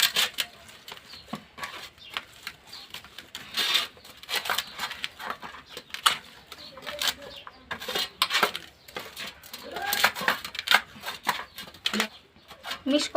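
Potato and flour dough being mixed by hand with homemade ghee in a bowl, giving soft irregular squelches and scrapes with occasional clinks of utensils, close and fairly quiet, with faint birdsong in the background.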